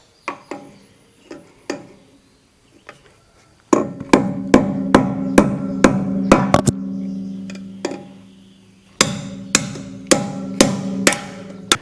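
Hammer blows strike an aluminum lug nut cap to rip it off a wheel, starting as sparse, single sharp metallic knocks, then turning into rapid, loud, ringing strikes in two bursts.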